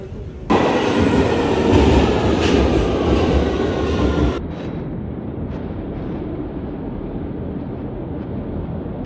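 A train pulls into Southampton Central station with a loud, close rumbling roar and rattle that dies down after about four seconds to a quieter low rumble as it slows.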